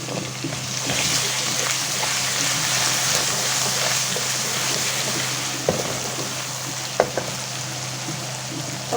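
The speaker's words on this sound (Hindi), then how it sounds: "अब डालेंगे इसमें हम लहसुन अदरक का पेस्ट।" Garlic-ginger paste fries with onions in a pan, giving a continuous crackling sizzle. Occasional utensil taps and scrapes stand out.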